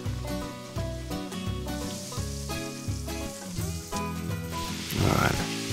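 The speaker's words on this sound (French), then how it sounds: "Dans une poêle à part, en prenant une cuillère à soupe de cette huile végétale et une bonne noix de beurre, on va faire revenir la viande." Meat browns in a pan with vegetable oil and a knob of butter, giving a steady sizzle that sits under loud background music, with a louder spitting burst near the end.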